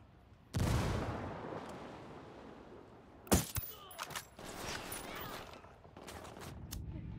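A grenade goes off in the Ghost Recon Wildlands video game: a loud, sudden blast that rumbles on, then a sharp crack and scattered gunfire-like bursts follow.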